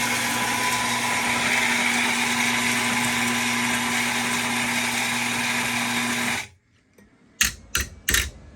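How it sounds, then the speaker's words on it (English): A home espresso grinder runs a two-cup dose with a steady, loud mechanical whir for about six seconds, then stops, followed by a few sharp taps and knocks. "we got 2 buttons for grinding. You got 1 cup and 2 cups."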